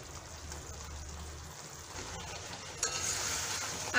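Raw mango pickle syrup bubbles in a pan, sweet, sour and spicy, with a soft, even simmering hiss and a brief clatter of the pan partway through.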